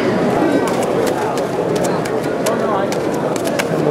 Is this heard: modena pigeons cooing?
yes